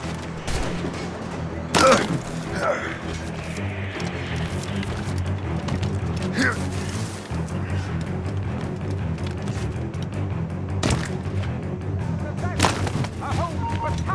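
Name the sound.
gunfire from the video game Assassin's Creed Rogue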